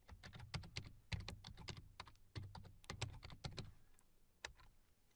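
Quick bursts of keystrokes on a computer keyboard entering a PowerShell command, close and clear with short pauses between clusters of clicks.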